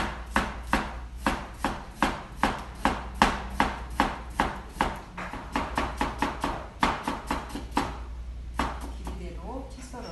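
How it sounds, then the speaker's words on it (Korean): A knife cutting a pear into fine 4 cm strips on a cutting board, with rapid, evenly spaced chopping taps close by and a short pause near the end. "배를 채 썰어서 설탕물에 담궈 놓도록 하겠습니다."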